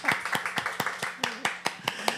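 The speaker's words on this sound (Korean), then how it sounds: "큰 박수로 환영해 주시면 감사하겠습니다" A church congregation claps in welcome during a Sunday worship service, the claps landing as distinct, fairly regular beats at moderate volume with a low voice murmuring underneath.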